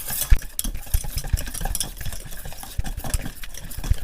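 Tandoori chicken marinade stirred with hot oil in a bowl, close by: steady scraping and mixing with irregular clinks of a spoon against the dish.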